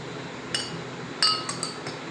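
Two drinking glasses of water set up for a salt-water density demonstration clink together as they are handled, giving several short, bright glassy taps spaced unevenly over a couple of seconds against quiet room noise.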